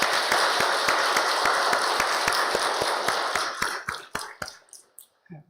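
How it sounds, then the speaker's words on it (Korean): A church congregation at an early-morning special service claps together in a steady, even rhythm, loud and dense at first, then thinning into a few scattered claps before falling silent. "우리 박수 한번 쳐드립시다"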